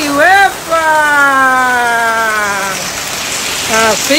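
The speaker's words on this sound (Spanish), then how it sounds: "Y sigue la lluvia con su chin, chin, chin." Torrential rain falls on a house in a mountainous area as a loud, steady hiss throughout, while a person calls out excitedly over it.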